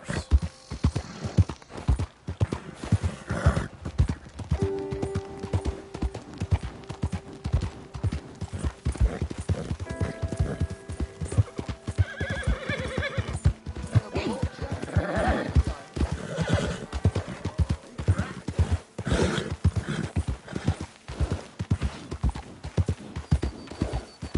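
Horse hooves clip-clop steadily throughout in the video game Red Dead Redemption 2, with a horse whinnying and neighing over the rhythmic footfalls, fairly quiet overall.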